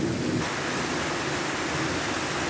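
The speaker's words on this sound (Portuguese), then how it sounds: "Muito bem-vinda a chuva." Steady heavy rain falls during a fishing trip, a dense continuous hiss of drops on surfaces, loud and close with no voices.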